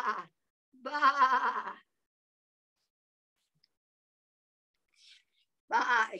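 A voice imitates a sheep's bleat in three wavering, drawn-out baa calls, close and clear, with silent pauses between them.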